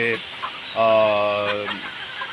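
A laying hen about five months old lets out a drawn-out cluck-like call among quieter farmyard sounds, with voices nearby.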